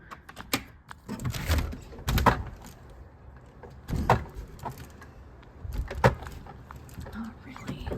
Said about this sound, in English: Can I even open the door?